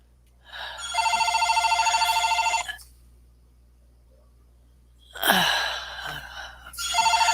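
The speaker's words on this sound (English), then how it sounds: "Your feller phone's ringing." A telephone bell rings indoors in long trilling bursts, one sustained ring, a pause, then another ring starting, loud and close with no talk over it.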